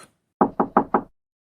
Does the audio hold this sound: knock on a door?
yes